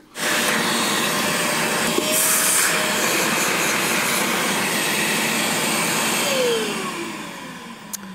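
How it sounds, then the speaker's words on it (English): A homemade bee vacuum pulls air through a pipe with a loud, steady, broadband roaring hiss. The pitch shifts slightly, and the roar tapers off toward the end. "My idea was we were just going to put a hole in this pipe to change the suck."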